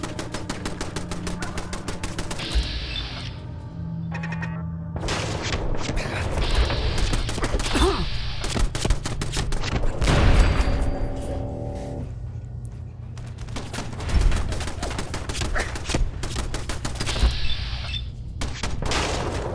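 Turret gunfire in Fallout 4: dense, repeated bursts of shots and booms that keep coming across the whole stretch, loud and close, over steady game background sound.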